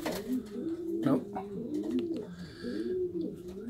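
Pigeons cooing, young birds out for the first time, soft repeated throaty coos in a steady close rhythm throughout, with faint background sounds.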